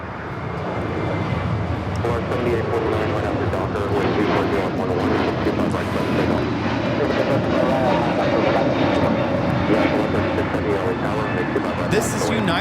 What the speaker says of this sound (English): Airlines 1244 taking off to Chicago on the A321neo